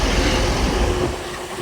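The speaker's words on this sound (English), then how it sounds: "Arriving in now is a terminating northern train from Leeds via Garforth." A terminating Northern passenger train from Leeds via Garforth rolls into York station, giving a loud steady rumble with a faint whine that eases slightly toward the end.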